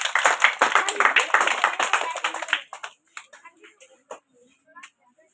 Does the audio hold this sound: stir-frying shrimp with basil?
no